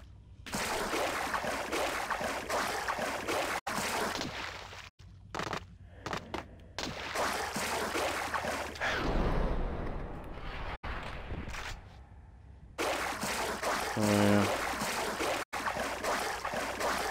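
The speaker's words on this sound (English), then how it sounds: "Gotta love the sound of splashing water." Continuous splashing and churning water in Max Payne, loud and close, with brief gaps of silence and a few sharp knocks.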